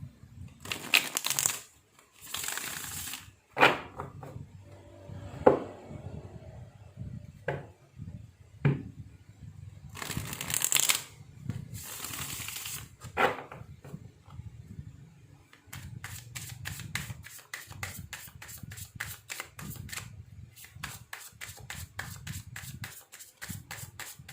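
A deck of tarot cards is shuffled by hand in repeated bursts of crisp riffling and slapping, close and clear, ending in a long run of rapid, evenly spaced card flicks.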